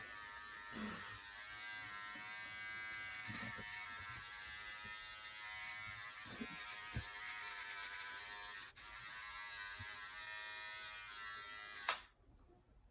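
Electric trimmer cutting a man's beard, a steady close buzzing hum that runs throughout with small shifts in tone as it moves across the hair, then stops abruptly near the end.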